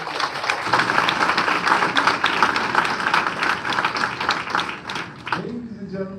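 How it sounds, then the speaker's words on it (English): A crowd at a union rally for Teamsters Local 237 breaks into loud, sustained clapping that lasts several seconds, then fades as a voice begins speaking at the end. "So give yourself a strong round of applause."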